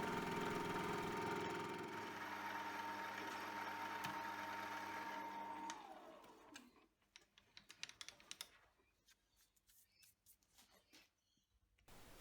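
A milling machine skims steel vise jaws in a shed workshop, with a steady motor whine that winds down midway, followed by faint clicks and metallic handling.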